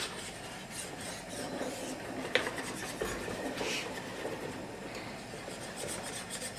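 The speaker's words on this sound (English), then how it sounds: "I'm going to stir it the whole time because I don't want it to scorch" A pot of chocolate pudding made from cocoa powder and milk is stirred continuously on the stove, a steady rough scraping and rubbing close by with one brief knock.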